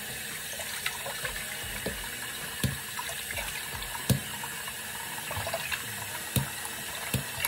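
Steady running water, like a tap flowing into a sink, with small splashes and clicks of handling on top; no voices.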